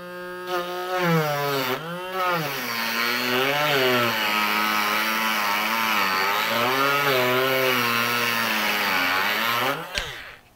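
A high-pitched whine from a rotary tool whose bit is pressed against the spinning motor shaft of a Sony SLV-N700 VHS VCR to score it, rising and falling in pitch as it runs steadily for about ten seconds, close and loud.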